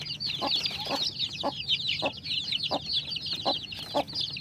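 A Silkie hen clucks in a steady, repeated rhythm, each cluck short and close, while her many chicks keep up a constant high peeping chorus around her.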